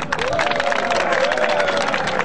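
A festival crowd claps and cheers in dense, steady applause that holds loud and even from start to finish, with a faint sustained voice in the mix.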